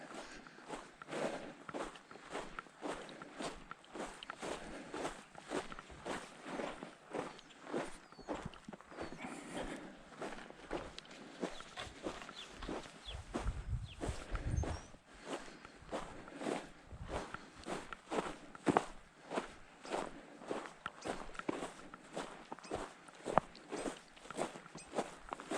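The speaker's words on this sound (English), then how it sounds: "I'm going to walk up this mound." Footsteps climb a grassy mound on a hike at Aztalan State Park in a steady walking rhythm, crunching faintly and close over low outdoor ambience, with no talking.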